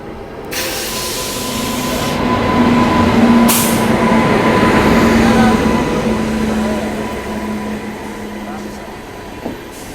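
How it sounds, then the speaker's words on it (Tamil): The Island Express, a Bangalore to Kanyakumari train with new LHB coaches, runs past with a loud, sustained rumble and clatter. The noise swells in the middle and eases toward the end, with a steady high tone and a brief clank near the close. "பெங்களூரில் இருந்து கன்னியாகுமரி வரைக்கும் உள்ள ஐலாண்ட் எக்ஸ்பிரஸ்."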